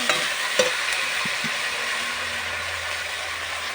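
Potatoes with chili powder are stirred and fried in a pan, producing a steady hissing sizzle with a few sharp scraping knocks of the utensil near the start and a faint low hum beneath.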